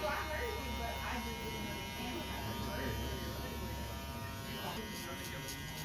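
Hair clippers buzz close by while cutting a fade haircut, the steady electric hum rising and falling faintly as the blade moves through hair, with quiet talk in the background.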